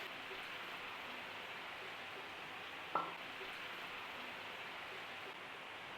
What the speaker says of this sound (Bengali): দেখুন এই যে ফুটে উঠেছে ঝোলটা।